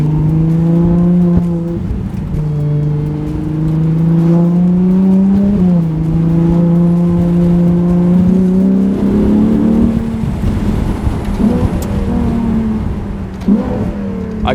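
Ferrari SP2 Monza engine on snowy mountain roads, loud and close, revving through repeated rising sweeps with gear shifts at steady intervals, building to a harsher high-rpm roar near the end, with no voices.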